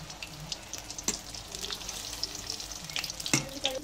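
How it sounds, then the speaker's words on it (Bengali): Suji pitha batter sizzling and frying in hot oil in a pan, a steady close crackle with small pops and spatters, no voices. "আর তেলটা আমি গরম করে নিয়েছি, তো দিয়ে দেবো এরকম করে।"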